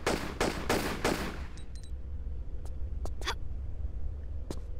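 Four rapid gunshots fired at scorpions in a Tomb Raider custom level, close and loud in quick succession, then a quieter stretch with a few sharp clicks and short game effects.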